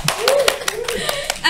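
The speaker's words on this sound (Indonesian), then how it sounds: "Tepuk tangan dulu dong" Brief burst of audience applause during an Indonesian podcast with an audience, rapid claps sounding close and fairly loud, with a voice speaking over them.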